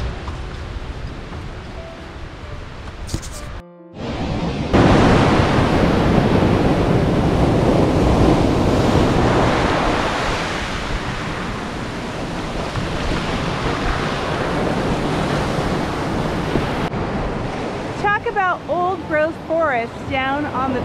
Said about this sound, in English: Welcome to Rialto Beach.